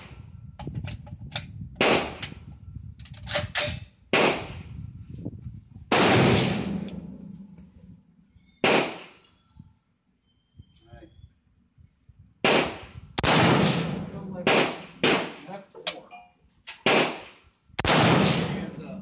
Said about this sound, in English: Shooting out a 10 round magazine